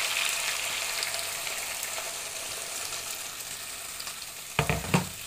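Pork and potatoes fry steadily in a pan, giving a constant soft sizzle with a couple of louder spits and crackles near the end, no talking.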